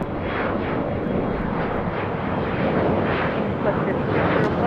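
An airplane takes off from a runway at LAX airport, its loud, steady engine roar carrying broad rumble and hiss through the whole stretch without letting up.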